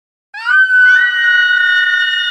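A woman lets out a long, piercing scream of pain as a dramatic sound effect, bursting from silence and holding loud and sustained with a wavering pitch, alone and close.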